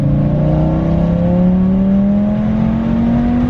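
500 whp Audi RS3 accelerating hard under launch control, a loud close engine note climbing steadily in pitch through a continuous pull from inside the car, no talk.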